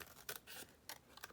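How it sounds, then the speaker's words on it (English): Scissors trim paper around an edge with several quick, crisp snips spaced irregularly, close and fairly quiet. "then I would just trim around the edge like this"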